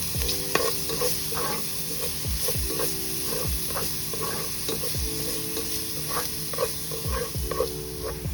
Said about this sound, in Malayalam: രണ്ട് ടേബിൾ സ്പൂൺ വെളിച്ചെണ്ണയിലേക്ക് ചതച്ചു വെച്ച ഇഞ്ചി വെളുത്തുള്ളി കൊച്ചുള്ളിയും കൂടെ ഇട്ട് നന്നായി ഒന്ന് ഇളക്കിയെടുക്കാം